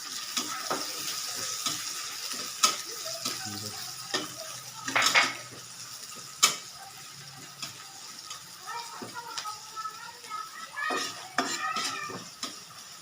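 Onion and garlic sauté in a pan with a soft, low sizzle under frequent clicking and scraping of a metal spatula, which sometimes rattles in quick bursts.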